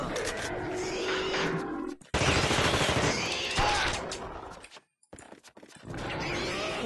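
Rapid, continuous gunfire against a tentacle monster in The Thing video game rattles loud and dense for long stretches, broken by a couple of brief pauses.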